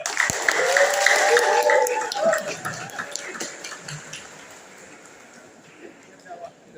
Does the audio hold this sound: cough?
no